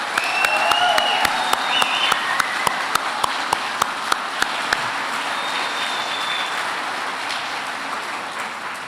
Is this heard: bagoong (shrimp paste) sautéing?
no